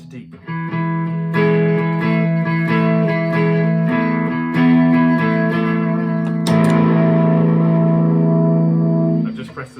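Steel-string guitar played through a DemonFX Steel String Supreme pedal with every button switched on, sustained effected chords ringing loudly with shimmering, chorus-like distortion and a sharp new strum near the end.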